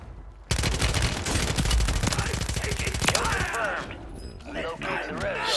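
Video game Call of Duty gunfire in a battle royale match: rapid automatic bursts rattle loudly for about three seconds, followed by scattered shots and clatter as players talk over the action.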